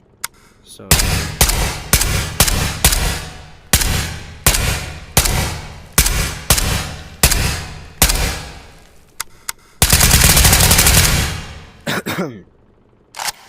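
Automatic gunfire in the virtual reality shooter Ghosts of Tabor, a series of loud, close bursts in a steady rhythm, followed by one sustained burst and a few trailing sounds.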